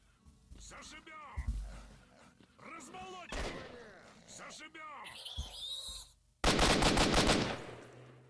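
Gunfire in the video game S.T.A.L.K.E.R. Shadow of Chernobyl, with a loud rapid burst of automatic shots near the end, after scattered in-game voices, cries and sharp noises.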